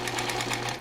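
An electric sewing machine stitches fabric for a longbow case, its needle driving a fast, even mechanical chatter over a steady motor hum, close and loud for just under a second.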